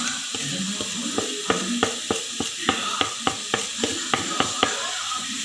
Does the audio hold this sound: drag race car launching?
no